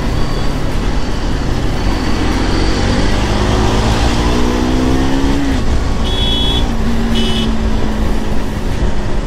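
A Hero Splendor motorcycle engine revs loudly and close, its pitch climbing and falling through a couple of throttle sweeps over a steady, rough idle.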